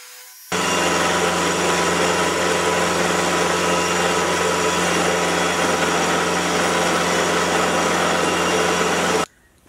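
A milling machine grinds steadily through metal held in a vise, chattering under a small, struggling cut. The loud, continuous mechanical whine runs unbroken for about nine seconds with no voices, then cuts off abruptly.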